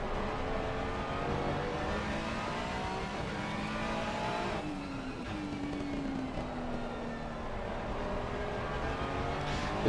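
Mustang GT3 race car engine in a racing video game, a steady loud drone whose pitch sweeps up and down as it accelerates and shifts, with faint higher-pitched engine whines and commentary-style mix beneath.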